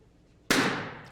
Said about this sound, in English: I am now going to go ahead and have you pop 2 balloons.